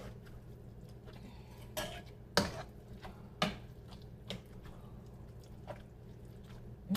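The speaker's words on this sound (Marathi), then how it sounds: "आता हे बघा, इथे हे परत स्मॅश करत आहे मी." Cooked onion, peas, potato and cauliflower for pav bhaji are mashed in a pan, giving faint, soft squishy thumps and clicks that arrive irregularly over a quiet background.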